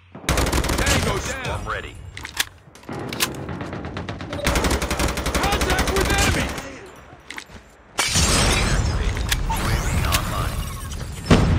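Call of Duty Mobile gunfire: an automated sentry gun and other weapons fire dense, loud bursts of rapid shots with short pauses, while game voice callouts break in between.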